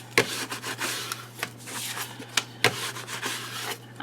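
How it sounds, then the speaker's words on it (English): A small burnishing tool rubs paper down on a mini scrapbook album, giving repeated short scraping strokes with a few sharp taps, close and fairly quiet, with no talking. "I'm just going to use my little burnishing tool and just burnish that down"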